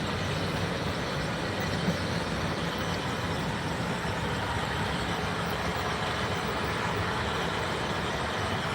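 Steady, even rumbling of an HO scale model freight train rolling along its track, continuous and moderately loud with no pauses or voices.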